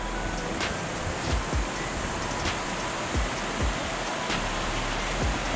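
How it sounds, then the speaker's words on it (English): A creek rushes over rocks on the Virginia Creeper Trail, steady and fairly loud, a constant dense hiss of water with faint low bumps, no voices. "More rushing water as we make our way down towards the cache."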